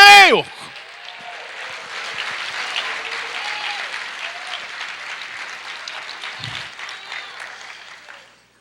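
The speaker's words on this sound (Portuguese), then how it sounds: "Aplauda ao Senhor" A church congregation breaks into broad, sustained applause right after a brief spoken voice. The clapping holds steady for several seconds before tapering off near the end.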